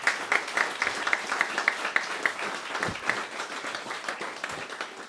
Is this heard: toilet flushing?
no